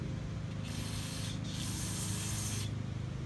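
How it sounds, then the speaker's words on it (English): Continuous hiss of an aerosol cleaner sprayed into an engine part of a 1997 Snapper Big 6 in two long bursts, close up, with a low steady hum underneath. "Now you need to spray it out again"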